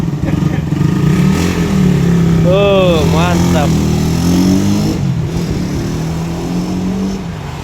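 A Suzuki Satria F motorcycle engine idles and revs loudly nearby, a rough steady rumble that swells and eases, while someone speaks briefly in Indonesian over it.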